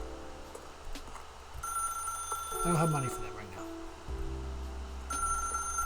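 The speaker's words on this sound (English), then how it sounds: "If you can truly place your faith in another, then pick up the phone." Telephone ringing in the video game The Stanley Parable, a repeated electronic ring with tonal bursts sounding through steady game ambience while someone talks over it.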